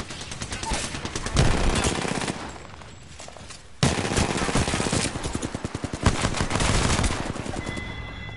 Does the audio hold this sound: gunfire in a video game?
yes